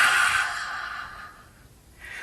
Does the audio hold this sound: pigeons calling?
no